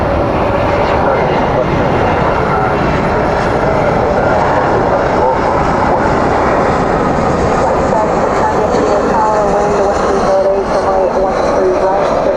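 An American A320 airliner landing at DFW airport at night, a loud continuous roar of engines and reverse thrust that rises and holds throughout, with a voice talking over it.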